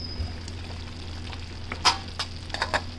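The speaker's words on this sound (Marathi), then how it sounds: "मस्त अशी तडतडून फोडणी द्यायची." Mustard seeds, turmeric powder and garlic spluttering in hot oil for a tempering, as for a besan pithla with dill greens: a faint low hiss broken by a few sharp, scattered crackles and pops.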